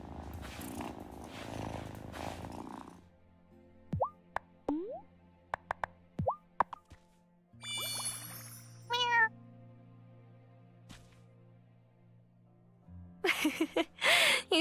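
A cat in the video game Wylde Flowers meows and purrs, with plopping effects and short meow calls scattered between stretches of game sound and quiet.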